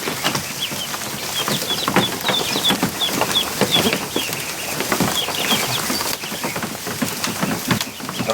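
Young ducklings peep in a busy, overlapping chorus of high calls, close by and fairly loud, with some rustling and wing flutter mixed in.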